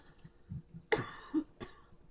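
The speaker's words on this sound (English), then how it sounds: "I still have, like, kind of a cough from being sick." A short, harsh cough close by, followed by a second smaller cough a moment later, in an otherwise quiet room.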